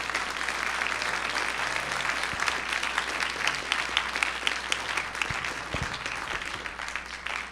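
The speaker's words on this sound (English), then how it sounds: "So one more round of applause for Kathy, please." Steady, sustained audience applause filling a room at a TEDx salon event, a continuous wash of many hands clapping at even loudness throughout, with no speech over it.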